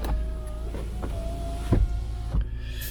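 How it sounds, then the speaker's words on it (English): Electric windows on a Volkswagen Caddy van whirring with a low motor hum, a few soft thumps and clicks as they stop and start, close inside the cab. "Automatic windows on both sides."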